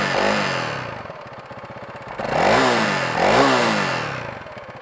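A Honda CRF 300L Rally motorcycle engine idles with a steady clatter, then the throttle is blipped twice, giving two rising and falling revs that sound loud and close.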